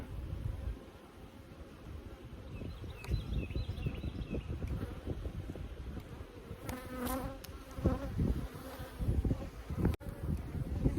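Honey bees hum and buzz densely around an open Layens hive at a beekeeping inspection in Holts Summit, a close, continuous swarm drone with individual bees passing near, no voices.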